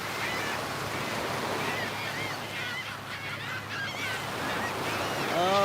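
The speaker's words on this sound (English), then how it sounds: "the birds are all excited about something. What is it? What did they're fighting. They're fighting over something" Geese honk and squabble loudly at a beach, overlapping calls rising and falling over steady surf and wind, with a brief voice near the end.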